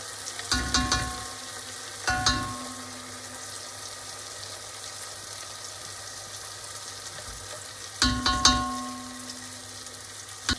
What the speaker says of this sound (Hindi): आंच हल्की है, अब इसको हम अच्छी तरह से भून लेंगे।